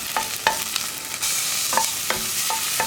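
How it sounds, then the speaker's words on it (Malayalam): Crushed ginger and garlic being stirred and sautéed in a pressure cooker, with a steady sizzle and repeated scraping strokes of the spoon close up. "ഇഞ്ചിയും വെളുത്തുള്ളിയും ചേർത്തിട്ട് അതിൻ്റെ ആ റോ ടേസ്റ്റ് മാറി വരുന്നത് വരെ ഒന്ന് ഇളക്കി കൊടുക്കുക"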